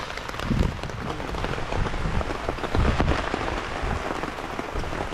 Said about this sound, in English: Oh, that rain bellowing in.